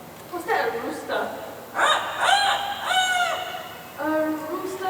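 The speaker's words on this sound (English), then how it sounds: "Hey, was that a rooster?" A rooster in a Singapore park crows loudly several times in quick succession, its rising, wavering calls ringing out nearby against faint outdoor background noise.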